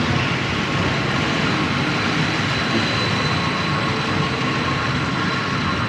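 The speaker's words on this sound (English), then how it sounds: "The trams are very frequent here." A tram passes on a city street in Geneva, a loud, steady broadband rumble and hiss that fills the whole stretch without letup, with no voices over it.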